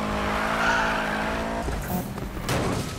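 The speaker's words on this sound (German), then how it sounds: "Da schieße ich mir etwas Nitro raus." A car's engine roars loudly and steadily as a nitro boost kicks in during a Need for Speed race, with a rushing, hissing surge and tire noise building toward the end.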